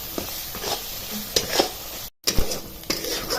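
Ground masala paste sautéing in hot oil in a pan gives a steady soft sizzle, broken by brief scraping stirs and one very short silent gap, close and moderately quiet with no talk.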